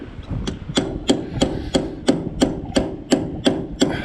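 A hammer drives a punch and chisel against a Killbros 1200 PTO shaft, striking about eleven steady, evenly spaced metallic blows at close range with no voices.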